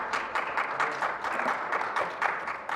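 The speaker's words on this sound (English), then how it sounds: "I think the first panel deserves another round of applause" Conference audience applauding a panel, a steady wash of hand claps at moderate distance with no break, no voices on top.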